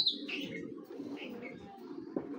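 A large, older racing pigeon coos softly nearby, a low murmuring coo with a few brief higher chirps from other birds and a light rustle, no voices.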